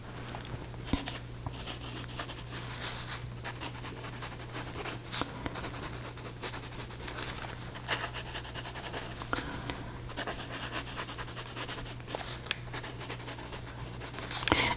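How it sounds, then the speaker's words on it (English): Graphite aquarelle pencil dragged across a gessoed art-journal page, a steady close scratchy scribbling with continuous rubbing strokes and small taps, over a constant low electrical hum. "And I'm using a graphite aquarelle pencil."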